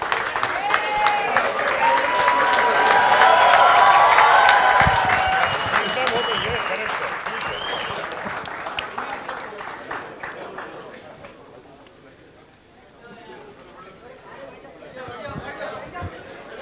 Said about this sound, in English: Please stand and give a standing ovation for him.